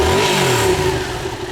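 Motorcycle engine revving up close, a steady droning tone that rises slightly then holds and fades a little, loud and alone with no talk.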